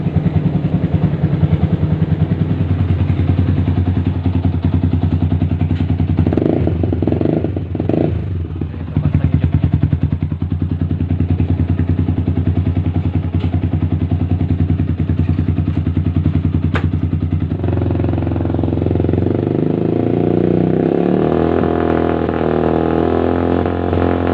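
A Yamaha R15 motorcycle engine, long unused and just revived, running loudly nearby, a steady rough idle with brief blips of throttle and a change in tone near the end.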